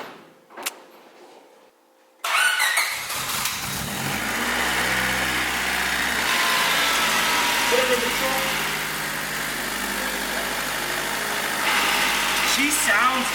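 A Honda CRX with a freshly dropped-in D16 engine starts after a brief quiet moment, then idles steadily with a low, even engine hum close by, a few faint voices around it.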